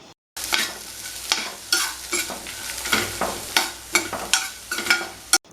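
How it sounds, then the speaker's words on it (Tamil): Karpooravalli leaves frying in a pan with tomato and grated coconut, loud close sizzling broken by repeated scraping stirs at a steady pace. "இந்த அளவு ஃப்ரை பண்ண போதும் ஸ்டவ் ஆஃப் பண்ணிடலாம்"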